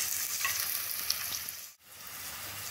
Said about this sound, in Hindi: प्याज। को हम हल्का सा गोल्डन होने तक फ्राई कर लेंगे।